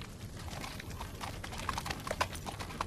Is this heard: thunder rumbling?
no